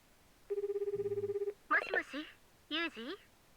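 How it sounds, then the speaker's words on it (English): A cell phone call in a visual novel game: one steady electronic ring tone with a low buzzing undertone, then short bursts of crackly electronic static and warbling chirps, clear and close. "After a single ring and a little electronic static"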